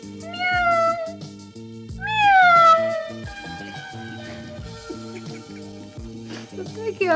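A woman in a drama scene imitates a cat, giving two drawn-out, rising-then-falling meows and a softer third, over steady background music.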